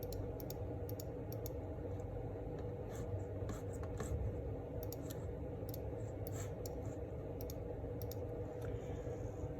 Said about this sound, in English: I'm going to type them in my Desmos.